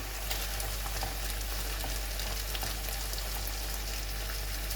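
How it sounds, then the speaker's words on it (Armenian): Chopped onion frying in a pan while asparagus cooks, giving a steady, dense sizzle and crackle that runs unbroken throughout at close range, with no voices. "ես ավելացնում եմ կտրատած սոխը, որպեսզի սոխն էլ տապակվի"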